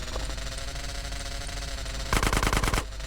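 Automatic gunfire in GTA San Andreas, a rapid burst of evenly spaced shots that lasts under a second, loud and close over a steady game background.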